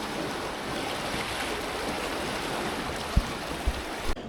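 Floodwater of the River Wye rushing over its burst banks near Ross-on-Wye, a steady broadband wash like heavy surf with a few low thumps near the end, continuous and fairly close.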